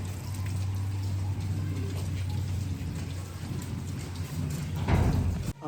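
Steady winter rain pattering down in a Pakistani village, with a low rumble of distant thunder underneath, a louder splash or gust near the end.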